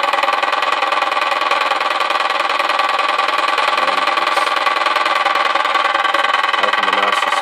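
A 3D printer extruder runs with a fault, making a nasty, constant grinding mechanical whir that holds at an even loudness throughout, close by and with no voices.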